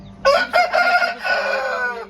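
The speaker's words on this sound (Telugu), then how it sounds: "ఈరోజు ఒక పెద్ద కోడి సేల్కి పెడుతున్నాం" A large aseel rooster crows once loudly and close by, a full drawn-out call with no talk over it.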